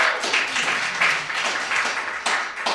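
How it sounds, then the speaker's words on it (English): An audience claps at a poetry prize reading, a dense, fairly loud patter of hands that swells and ebbs in waves over a few seconds. "Let's clap for Sheldrake."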